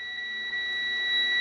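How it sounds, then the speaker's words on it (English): A multimeter continuity test beeps as probes touch a drone build kit's grounded frame and negative pad, giving one steady, clean, high-pitched tone that holds unbroken and loud throughout. "That's a nice solid beep."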